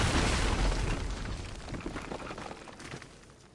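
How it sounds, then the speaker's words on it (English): A fiery explosion in the video game Uncharted: Drake's Fortune blowing up ancient stone architecture, a loud booming burst that rolls into crackling rumble and fades over a few seconds, with no talking. "why not blow up some more ancient architecture for funsies?"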